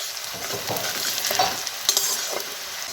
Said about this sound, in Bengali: এখন আমার একইভাবে বাকি ভেন্ডিটা ফ্রাই করে নিচ্ছি এটা আমি সর্ষের তেলে ফ্রাই করছি